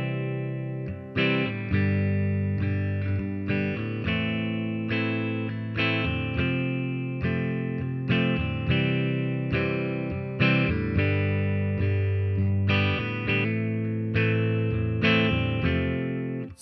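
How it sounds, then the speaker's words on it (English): Basic four-chord progression played on a guitar with an effects-heavy, slightly distorted and chorused tone, chords struck in a steady rhythm and sustained, loud and unaccompanied by speech. "You can play it in different keys, but it sounds like this when it's just the basic chords."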